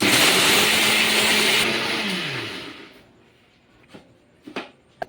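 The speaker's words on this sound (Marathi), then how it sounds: "मसाला ग्राइंड करून मिक्सर मधून पटकन बारीक करून घेते" A mixer grinder grinding spices whirs loudly, its motor pitch sliding down as it winds to a stop, followed by a few light clicks and taps.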